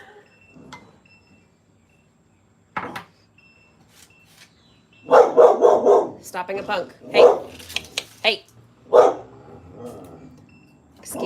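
A pet dog barks indoors, upset by yard work and leaf blowers next door, a burst of sharp near barks and yips in a loose run, with a person talking over and between them.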